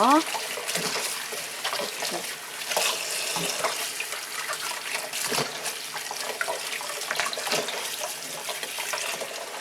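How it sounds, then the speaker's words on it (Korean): Garlic is washed under a running kitchen tap, with steady rushing water broken by splashes and handling sounds throughout, close and moderately loud. "마늘은 이제 깨끗이 이제 세척을 했잖아요"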